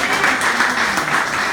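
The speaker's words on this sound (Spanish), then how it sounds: "Den un aplauso a Cristo Jesús." A church congregation claps together, a brief, dense burst of many hands in a large room, steady and lively, with voices faintly mixed in.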